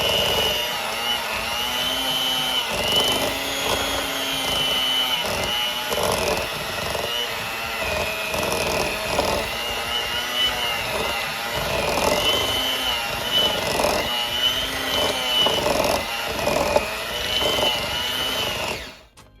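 Electric hand mixer creaming butter and sugar for a Jamaican black cake, a steady motor whir running the whole time with a slightly varying pitch as the beaters work through the mixture, fairly close and loud, no talking.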